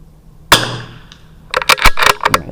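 Rifle shots from a .22 LR rifle firing SK Rifle Match ammunition, one sharp crack followed a second later by a quick cluster of several loud, close reports with short decays.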